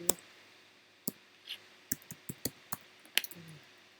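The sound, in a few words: typing text on a computer keyboard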